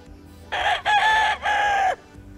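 A nearby hen gives a loud, drawn-out squawking call in three connected bursts, clear against a quiet background.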